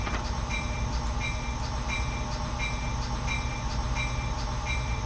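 A train in the Train Sim World 3 video game pulls away under throttle with its brakes released, giving a steady, loud engine drone with evenly spaced clicking beats running throughout.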